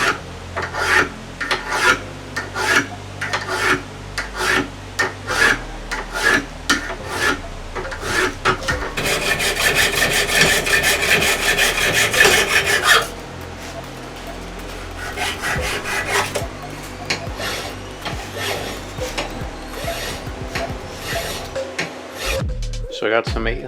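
Steel bracelet pieces rasp under 800 and 2000 grit sandpaper in quick, rhythmic back-and-forth strokes, close and loud, shifting into a denser continuous scrubbing midway before easing back to stroke-by-stroke rubbing.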